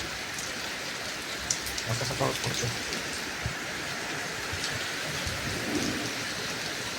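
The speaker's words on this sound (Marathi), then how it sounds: "खूप वेळचा पाऊस चालला होता" Steady heavy rain hisses across the whole recording, with a few louder splashes and a faint low rumble underneath.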